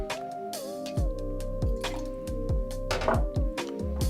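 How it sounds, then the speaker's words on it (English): Lemon juice is poured into a measure for a rum cocktail, giving short close liquid glugs and gurgles over a few seconds, with light clinks and no voices. "And then 20 mils of lemon juice, not lime juice this time."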